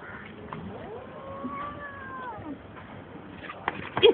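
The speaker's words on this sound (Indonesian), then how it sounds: "Kucing marah lama lah." An angry cat gives one long, drawn-out meow that rises and falls, at moderate volume and close by. A few soft clicks and rustles follow.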